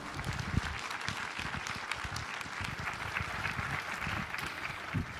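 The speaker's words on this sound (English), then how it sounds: "round of applause" Faint, distant audience applause welcoming a keynote speaker at an AdTech conference lunch, steady scattered clapping for several seconds with no voices over it.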